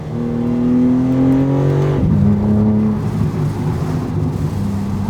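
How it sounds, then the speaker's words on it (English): A BMW G80 M3 engine climbs in pitch under acceleration, then abruptly drops on an ignition cut shift, followed by a steady lower drone. "I'll do ignition cut shift right here. You'll hear it."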